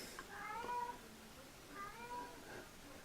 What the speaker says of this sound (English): The other one's meowing on the stairs